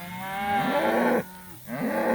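On a fall pasture, cows call out for their calves in overlapping, drawn-out bellows, one long moo breaking off and another starting soon after, at moderate distance with no speech.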